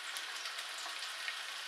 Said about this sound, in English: you can hear that starting to sizzle away